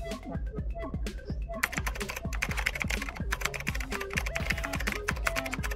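Fingers type steadily on a computer keyboard, a fast, even patter of close key clicks with soft speech underneath.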